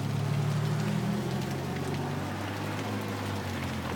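Rain water pours steadily from a rain spout beside a building near scaffolding, a constant close splashing wash with a low rumble underneath and no talk.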